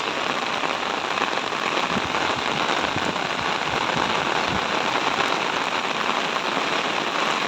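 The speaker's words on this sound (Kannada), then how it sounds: "ಈಗ ಸಹ ತುಂಬ ಮಳೆ ಬರ್ತಾ ಉಂಟು" Heavy rain pours steadily on a flooded road during the monsoon, a dense, unbroken hiss of drops hitting surfaces close by, loud and constant throughout with no voices.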